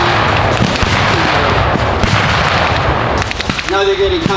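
WWII reenactment battle on an open field with artillery counter-battery fire: loud booms and sharp gunfire cracks in quick, irregular succession, heard at mid distance with crowd and field noise underneath.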